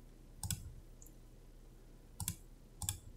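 Computer mouse clicks come in quick pairs, crisp and close, separated by a quiet hum, with three distinct clusters over a few seconds.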